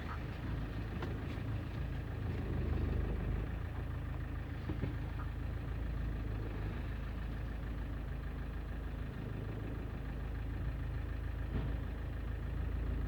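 Car engine idling while parking, a steady low rumble holding close and even throughout with faint fluctuations and no talk over it.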